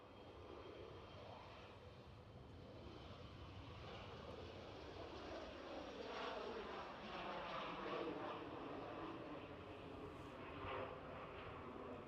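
An A380 airliner rolls at Glasgow airport on its inaugural departure, a steady distant jet engine roar swelling slightly through the middle, with faint voices beneath.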